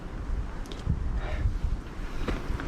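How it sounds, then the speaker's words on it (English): Wind gusting outdoors, a steady broadband rumble buffeting the microphone with low thumps, fairly loud and continuous throughout, no talking. "Stop here to get a break from the wind."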